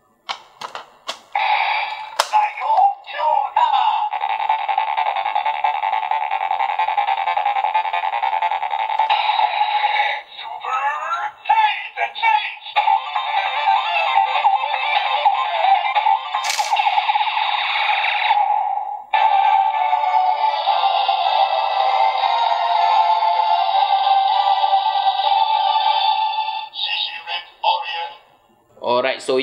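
A DX Saiko Kyutama Kyuranger toy plays its electronic transformation sound and a lively song, loud and sustained, with a few short breaks and clicks between the toy's phrases.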